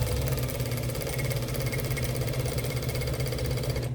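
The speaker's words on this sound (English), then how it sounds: "And now we're going to sew the seam of the pocket." A sewing machine runs steadily while stitching the side seam of a pocket, giving a continuous, fairly loud mechanical hum with a fast, even rhythmic chatter throughout.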